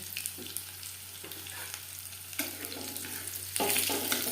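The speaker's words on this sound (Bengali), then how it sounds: "রসুন খুব বেশি ভাজবার প্রয়োজন নেই।" Garlic sizzling in hot oil for dal fry with steady crackling, punctuated by occasional stirring scrapes and a louder burst of sizzle near the end.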